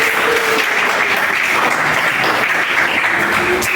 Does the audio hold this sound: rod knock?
no